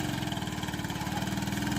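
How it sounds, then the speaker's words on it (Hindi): A motorcycle-based jugaad vehicle's engine runs close by with a loud, steady, throbbing putter at a constant pace. "मोटरसाइकिल जुगाड़ जा रहा है"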